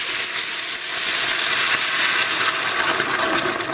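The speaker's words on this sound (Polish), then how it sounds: "Tutaj mam zagotowaną wodę, nalewam około" Boiled water pours steadily into a pot of pork knuckle and garlic, a continuous bright splashing rush with a faint sizzle beneath, close by and fairly loud throughout.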